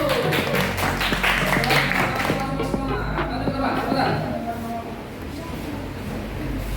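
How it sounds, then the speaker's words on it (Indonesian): Classroom students clapping for a presenting group, a dense burst of hand claps up close that fades off toward the end, with some talking mixed in. "Tepuk tangan untuk kelompok 1."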